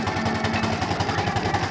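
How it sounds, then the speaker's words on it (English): A scale steam traction engine runs with a rapid, steady pulsing chuff and mechanical knock, loud and close, with no talk. "Half a ton of steam machinery there."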